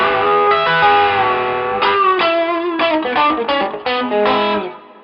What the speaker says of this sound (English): we're going to have some kind of warm, chorusy, flangery sound to it